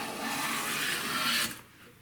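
A Bedrock hand plane takes a continuous rasping shaving stroke across wood, close and steady for about a second and a half before cutting off.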